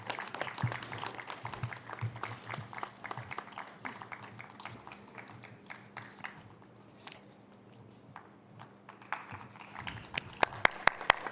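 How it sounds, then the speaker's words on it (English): Fairly quiet, scattered clapping from an audience in a high school auditorium at a cultural event, with sparse individual claps and some louder ones near the end. "Let's give them a huge round of applause,"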